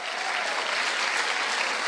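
Steady, loud applause from a church congregation, dense overlapping clapping that holds at an even level throughout.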